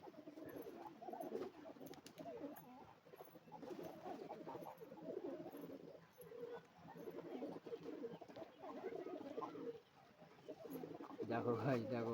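Pigeons at a home loft, soft repeated low cooing in a quiet setting, faint and close, with a louder rustle near the end.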